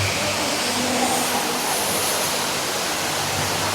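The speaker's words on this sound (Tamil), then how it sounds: "50 metre doll, world's second largest water fall." Indoor waterfall about 50 metres tall inside the Cloud Forest conservatory in Singapore, a steady broadband rush of falling water filling the space evenly and continuously, with no speech.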